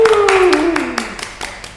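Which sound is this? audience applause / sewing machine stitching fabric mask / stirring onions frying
audience applause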